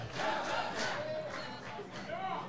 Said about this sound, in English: You can hear this crowd loving their fellow Quebecois.